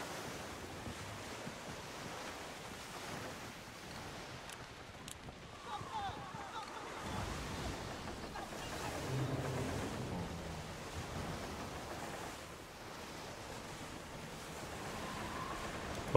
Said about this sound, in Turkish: dalgalar var, tam böyle devasa gemiye hasar veren